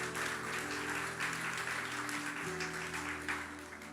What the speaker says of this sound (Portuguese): Você pode aplaudir ao Senhor por esta noite?